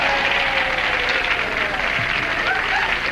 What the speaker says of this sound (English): you got equal applause from the audience on both of those